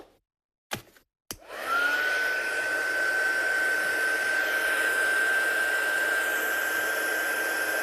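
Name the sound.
hair dryer drying a craft piece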